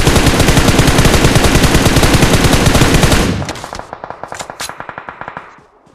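Rapid automatic gunfire rattles loudly and without pause in the mobile battle game BGMI, then thins into a slower string of separate, quieter shots before fading out.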